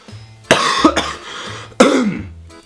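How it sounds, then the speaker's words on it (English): Two loud, close coughs from a passenger on a train, each a sharp burst with a short rasping tail, separated by about a second of quiet rumbling carriage noise. "So I did the old cough trick."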